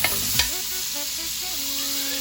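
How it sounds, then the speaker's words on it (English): Shrimp pan-fry in margarine and cooking oil with a steady, bright sizzle throughout. A quick clatter sounds near the start, and faint melodic tones play softly underneath. "pan frying them"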